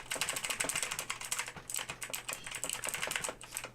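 Rapid, steady typing on a computer keyboard, close and continuous, with crisp clicking keystrokes and no voices.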